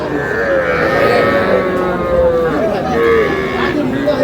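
Cattle, young bulls and heifer calves, moo loudly and close by at a livestock market in Aftabganj, long drawn-out lowing calls over a busy crowd murmur with people talking.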